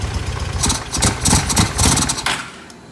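A single-carb 750 motorcycle engine, freshly carb-cleaned, idles and then revs in a few uneven blips that fall back, loud and close with no talk.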